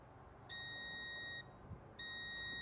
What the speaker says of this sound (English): you're going to hear a beep because we have continuity between 30 and 87A